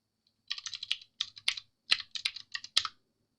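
Typing on a computer keyboard, a steady run of close, crisp key clicks in several short bursts with brief pauses between them, no talk.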